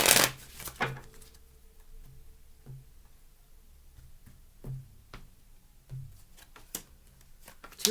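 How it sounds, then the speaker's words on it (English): Tarot cards being shuffled by hand, a soft papery riffle at the start followed by several quiet, spaced taps and flicks of the deck, close by with no talking. "Shuffle, please."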